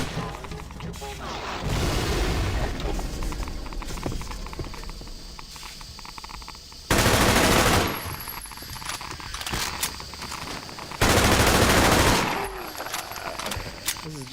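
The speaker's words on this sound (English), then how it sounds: "The SMG is so loud" In a Half-Life 2 mod, a submachine gun fires three loud, dense bursts, each a second or so long and separated by quieter stretches of footsteps and ambient game noise.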